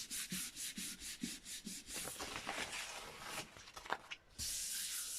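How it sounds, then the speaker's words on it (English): Hands being scrubbed clean of gel printing paint, a close, soft rhythmic rubbing of skin that strokes repeatedly, then turns into a steadier hissing rub toward the end, heard alone without talk. "So I have to scrub my hands before I sit and do my next tag."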